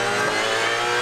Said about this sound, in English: Too much wheel spin.